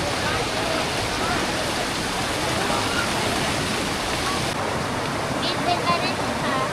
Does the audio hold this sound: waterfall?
yes